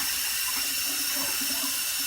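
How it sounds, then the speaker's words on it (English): Cold tap water runs steadily into a bucket of barley seed being rinsed for a fodder system, a close, continuous splashing hiss with no voices. "turn it on, and we rinse it in cold water"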